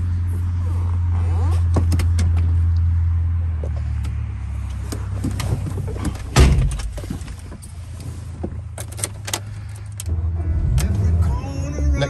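A slate grey 2006 Mini 1.6 manual hatchback's engine running close by, a steady low rumble punctuated by sharp clicks and knocks, with a louder burst midway and a person speaking briefly.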